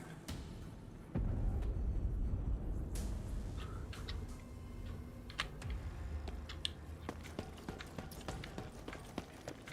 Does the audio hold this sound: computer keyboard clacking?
yes